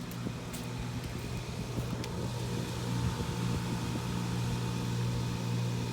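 A 2018 Bryant heat pump runs in heat mode outdoors, giving a steady low motor hum with a constant tonal drone and fan whoosh, moderately loud and unbroken, with no talking.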